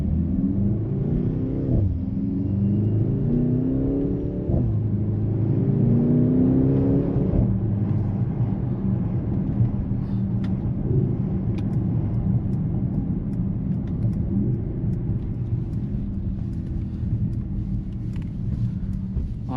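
A 2025 Mercedes-AMG GLC 63 S E Performance hybrid coupe accelerates from inside the cabin, its engine rising in pitch through several quick gear shifts before settling into a steady low rumble and road noise.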